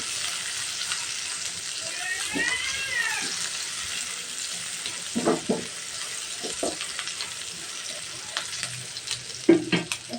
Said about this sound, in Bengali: পেঁয়াজটা দিয়ে আমি ভেজে নিচ্ছি